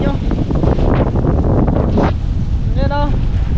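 Strong typhoon wind buffets the microphone over rough, whitecapped sea waves, loud and close and continuous, with someone speaking briefly over the roar.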